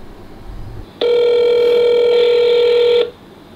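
A telephone tone plays while a call is being placed, a single steady loud tone lasting about two seconds after a moment of quiet background, then cutting off.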